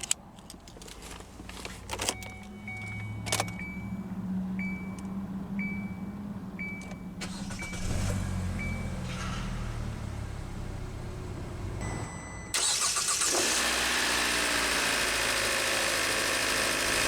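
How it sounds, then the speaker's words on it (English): A 2016 Kia Soul+ engine turns over and catches, then settles into a steady idle hum, with a few clicks and chimes early on and a louder, brighter rush near the end. "let's go ahead and start the engine"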